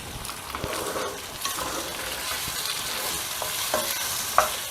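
Spices, including carom seeds, crackle and sizzle steadily in hot oil, a continuous frying hiss with occasional sharper pops and a stir or two, close and fairly loud.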